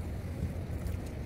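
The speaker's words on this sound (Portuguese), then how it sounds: "só que o vento não tá ajudando" Wind gusts outdoors at a fishing spot, a low, buffeting rumble of wind against the microphone with a faint watery wash behind it and no voices.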